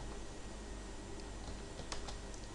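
Light tapping on a computer keyboard during a T-shirt design session, quiet rapid keystrokes under a steady fan-like hiss, with a couple of slightly louder clicks near the end.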